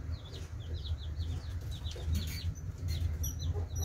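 Newly hatched chicks peep in a rapid, scattered series of high, thin chirps, several birds calling over one another at close range above a low background hum.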